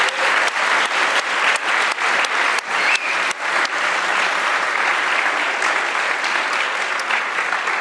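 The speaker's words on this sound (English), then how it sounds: "let's give them one last round of applause." Audience at a university game programming lab final presentation gives a sustained round of applause, dense and loud, with several sharp individual claps early and a steady wash after.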